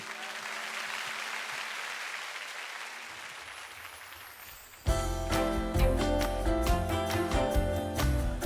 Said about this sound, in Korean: 큰 박수 주시기 바랍니다, 여러분.